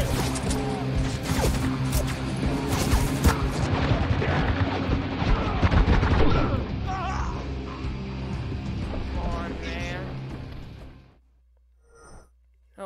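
Heavy, dense gunfire and explosions in the video game Spec Ops, loud and continuous for several seconds before thinning out and cutting to near silence.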